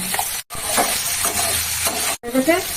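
Kashmiri chili sizzles and fries in hot oil in a pan for a vegetarian thali dish. A loud, continuous hiss and crackle plays close up, with stirring scrapes and two brief cut-outs.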